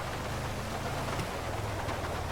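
Rain in a GTA V off-road mud scene: a dense, even hiss of falling rain holds steady without pause, with a low rumble underneath.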